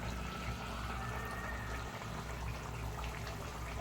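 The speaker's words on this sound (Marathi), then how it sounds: "ते गरम पाणी आपण ॲड करून घेतले" Hot water is poured into a simmering Konkani-style chicken gravy, giving a steady, soft wash of liquid sound that holds evenly throughout at low volume, with no speech.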